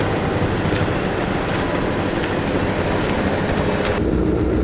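Erie Lackawanna passenger train Phoebe Snow departing Hoboken westbound, a dense continuous rumble of rolling wheels and engine noise, steady and fairly loud throughout with no voices.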